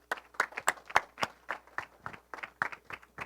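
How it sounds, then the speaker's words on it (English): An audience at an art awards event gives a small round of applause for a second-place painting winner, with a handful of distinct, irregular claps that sound sparse and moderately close. "So please let's give her a round of applause."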